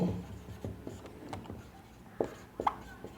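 Chalk or pen writing by hand on a board during a civics lesson, with short scratchy strokes and taps spread irregularly through the clip, quiet and close, with no talking.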